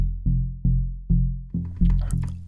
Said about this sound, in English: so that's what a low note sounds like